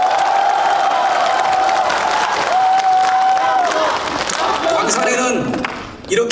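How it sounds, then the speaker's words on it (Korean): Loud, dense applause from a rally crowd at a Democratic Party primary speech event for Gwangsan district mayor in Gwangju, sustained throughout, with whistles, cheers and voices mixed in, fading slightly at the very end. "큰 박수 한번 보내주십시오"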